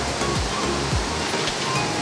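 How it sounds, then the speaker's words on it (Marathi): Small waterfall in Konkan spilling off a hillside into a river, a loud close continuous rush of falling water with no voices. "एकदम शांत गतीने एकदम डोंगरावरून खाली कोसळून पाणी नदीने खाली चाललं आहे"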